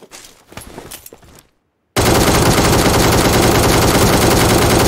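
Loud, close automatic gunfire in PUBG Mobile bursts in after a short quiet pause and rattles on without a break.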